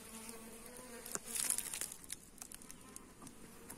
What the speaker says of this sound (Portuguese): Nessa aqui ó, tem muita abelha.